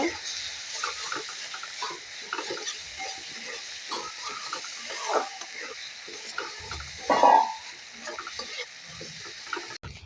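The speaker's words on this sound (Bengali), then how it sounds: "ভালো করে সব কিছু মিশিয়ে নেব।" Spices are being mixed with salt and turmeric in a pan for a Bengali taro-leaf and prawn dish, giving a low steady hiss with soft scraping stirs and one brief louder clatter near the end.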